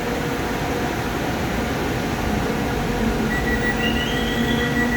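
A CRRC SFC120-V KRL electric commuter train pulls out of Sudirman station in Jakarta with a loud, steady rolling rumble, while thin whining tones rise in pitch as it gathers speed.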